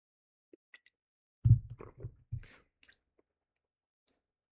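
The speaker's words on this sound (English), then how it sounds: "I've been slurping some coffee." Coffee is slurped from a cup in a close, quiet sequence of wet sips and swallows, a few tiny clicks before and after the main burst of slurping.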